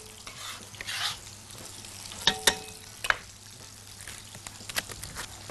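Chopped onion frying in oil in a pan, a soft continuous sizzle broken by a few sharp stirring scrapes and clicks, close and fairly quiet.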